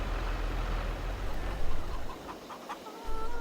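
Chickens clucking in the Farming Simulator 22 video game, a steady layer of fowl calls over a constant low engine-like rumble, with no talk.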